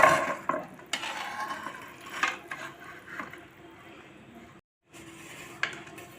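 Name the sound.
stirring sugar syrup into roasted flour for mohanthal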